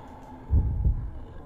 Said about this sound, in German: seltsamer Herzschlag, der plötzlich auftaucht